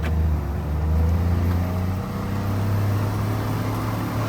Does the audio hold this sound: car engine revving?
yes